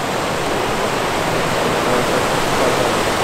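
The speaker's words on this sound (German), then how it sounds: "Hier ist quasi Wasserfall." A small waterfall in the Scottish Highlands roars as a loud, steady broadband rush of falling water, close and continuous, with no voices over it.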